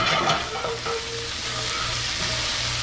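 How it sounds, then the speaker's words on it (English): Basil is stirred into peppers and onions sizzling in a hot pan, a loud close steady frying hiss with soft scraping stir sounds and no talking. "Just stir that basil in."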